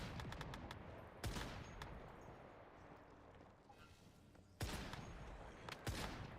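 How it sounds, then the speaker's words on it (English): Unsilenced gunfire in the survival game Once Human: a few sharp, distant-sounding shots crack out over a low, steady background rumble, spaced irregularly with quiet stretches between. "we're actually firing this gun without a silencer, I feel like maybe these gunshots might be a little too loud"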